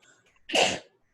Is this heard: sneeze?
yes